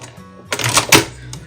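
A sewing machine back stitches through layers of fabric on a microwave potato bag, giving a short, fairly loud mechanical burst of stitching over a low motor hum that fades out afterward.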